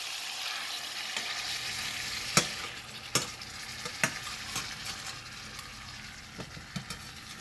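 Salmon fillet frying in a pan right after being flipped, a steady soft sizzle with scattered pops and crackles through the whole stretch, close and fairly quiet, no voices.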